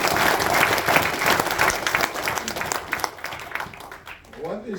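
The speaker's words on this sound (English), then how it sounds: "Give the Lord a clap." A church audience at a pastors' conference breaks into loud, sustained clapping that fades over several seconds, with a voice speaking over the applause.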